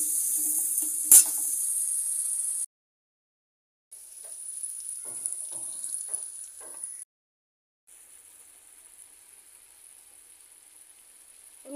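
Spice paste with sugar being stir-fried in a pan for raw banana kofta curry, heard as three bursts of sizzling broken by silent gaps, with a sharp click early on.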